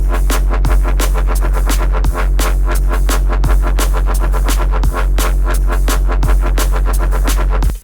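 Aggressive neurofunk bass patch designed in the Phase Plant synth, loud and continuous with dense rhythmic stabs and pitch-dropping swoops repeating about every second and a half, no voices.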